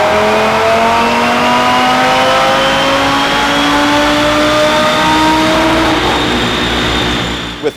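An Audi RS3 running E30 flex fuel on a chassis dyno roars through a full-throttle pull, the five-cylinder's pitch climbing steadily under heavy load for several seconds before the engine lets off abruptly at the end.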